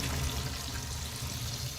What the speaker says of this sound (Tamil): மசாலாவை சேர்த்துட்டு நம்ம கரைச்சி வச்சுருக்க புளி தண்ணியும் சேர்த்துக்கலாங்க